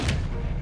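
A Flipendo spell strikes in the video game Hogwarts Legacy, a single short heavy thud with a dull booming body, loud and close.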